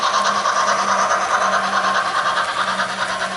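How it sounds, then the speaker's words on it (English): A Mantau model train, a Northern Pacific locomotive pulling a rake of freight cars, runs steadily along the track with a constant whirring hiss and soft rolling rub, loud and close, with no talk. "Pulling a nice rake of freight cars,"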